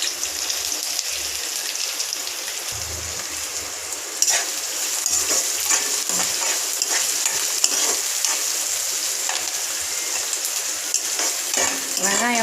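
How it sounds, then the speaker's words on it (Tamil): Onions sizzle and fry steadily in hot oil for a chicken gravy, a dense continuous crackle with occasional stirring, close and fairly loud with no talking. "வெங்காயம் வந்து நல்ல பொன் வறுவலாக வரணும், அது வரைக்கும் நல்லா வதக்கிக்கலாம் வெங்காயத்தை"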